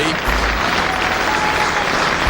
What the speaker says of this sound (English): Applause ringing out for Sachin Tendulkar, his 3rd half-century in Test cricket